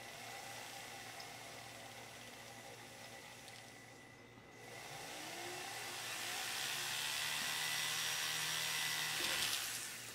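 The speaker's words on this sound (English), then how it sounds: "the drill is going to be going through" Drill bit boring into a metal ring for flush stone setting, lubricated with wax; a steady close whirring drone that rises slightly in pitch and intensity partway through, continuous with no talk.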